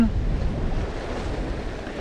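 Wind buffets the microphone on a seashore during lure fishing for sea bass, a steady rough low roar with surf-like wash mixed in, continuous and loud throughout.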